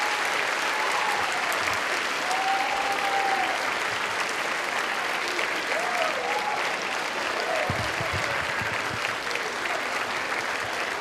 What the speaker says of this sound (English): please clap for your families